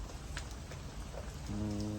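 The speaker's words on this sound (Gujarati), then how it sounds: "વરસાદ ચાલુ છે ધીમો ધીમો વરસાદ" Light, steady rain falls on a farm, a soft even hiss of drops throughout. A low droning hum joins in for the final half second.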